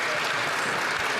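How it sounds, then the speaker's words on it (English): Members of a parliament applaud in a brief, dense, steady burst of clapping during question period, a continuous wash of many hands. "Got to give him some applause"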